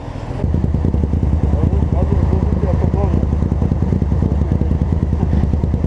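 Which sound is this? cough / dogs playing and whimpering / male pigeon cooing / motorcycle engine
motorcycle engine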